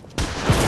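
A gun fired in the video game Bloodborne: an abrupt loud blast breaking in after a near-silent moment, its broad roar sustained and swelling again briefly before the clip ends, with no voices.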